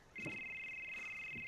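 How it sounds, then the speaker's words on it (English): A phone rings with a steady, high electronic tone that starts abruptly and holds, fairly quiet, in a car, with faint low murmurs around it. "Which phone is the one ringing?"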